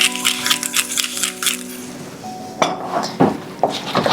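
Pumpkin risotto with cream cheese being stirred in a pot, a spoon clinking and scraping against the metal in irregular close taps, with a ringing tone fading early on.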